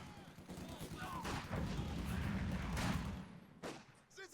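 Machine gun fire in the video game Company of Heroes 2, a muffled stream of rattling bursts amid a rumbling battle background, moderately distant and fairly quiet, with a commentator talking over it.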